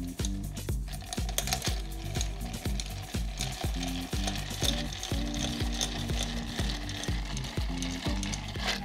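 A Sazerac cocktail with cognac is stirred over ice in a mixing glass, giving a steady run of rapid clinks and rattles from the ice and the spoon, close and continuous.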